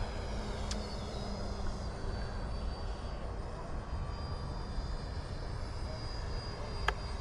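An E-flite Viper 90mm RC electric ducted-fan jet flying, a steady distant whine and whoosh of the fan that holds fairly constant and faint against outdoor ambience.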